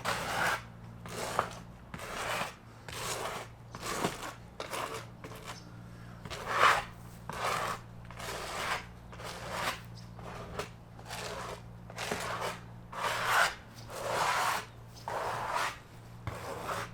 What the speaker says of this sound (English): it should be just working the leather and giving it some play